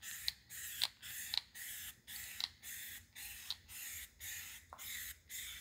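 A spray paint can lays a third, thicker base coat on a V8 manual E39 BMW part, with about ten short hissing bursts separated by brief pauses, steady and fairly close.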